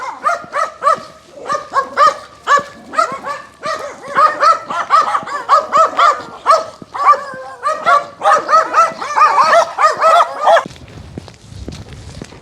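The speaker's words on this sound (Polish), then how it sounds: "A słyszę, że tam szczekają." Several dogs bark in rapid, overlapping bursts, loud and close, with yips and whimpers mixed in, continuing almost nonstop before cutting off near the end.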